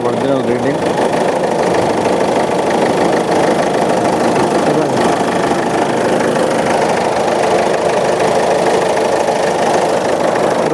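A Ford EcoSport with about 167,700 km on it idles steadily at close range, a constant engine drone running under people talking.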